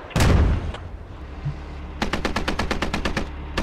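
In the video game Squad, a tank takes fire: a loud burst of impacts and crackling opens the clip, then after a short lull comes a rapid, steady string of sharp gunshots, like automatic fire.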